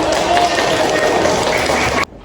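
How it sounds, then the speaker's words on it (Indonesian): Classroom of students clapping during a micro-teaching lesson, a loud continuous wash of applause that cuts off abruptly near the end. "Oke, tepuk tangan semuanya"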